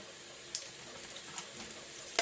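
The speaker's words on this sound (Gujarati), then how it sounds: "આપણે તરત તળીને કાઢી લેવા પડે" Quiet, steady sizzle of food frying in oil, with a few faint sharp pops and crackles.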